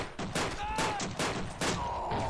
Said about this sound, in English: Oh, that sounds like a heavy caliber. AK... must have!